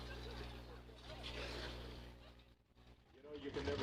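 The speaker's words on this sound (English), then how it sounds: "Ladies and gentlemen, start your engines." Race boat engines at the Catalina water ski race fire up together in a loud, steady low rumble that swells toward the end, with people talking over it.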